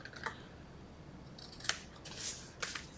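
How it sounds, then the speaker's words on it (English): Scissors snipping off paper card overhang during a Stampin' Up! teepee pyramid card craft, several quiet crisp cuts spaced apart, close and faint. "You're just going to take your scissors and you're going to cut that off."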